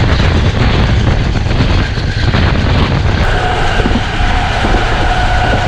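A Zakaria Express train rumbles steadily along the rails in Pakistan, a loud, continuous roar with rattling wheels close by, heard from inside the first carriage.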